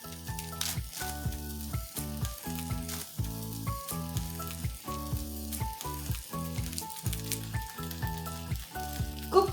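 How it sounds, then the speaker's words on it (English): Broccoli and spinach leaves sizzle as they are stirred in a pan for pasta in paprika sauce, with a steady frying hiss and a few light utensil knocks, all under rhythmic background music. "Cook the spinach leaves properly. Let them shrink completely."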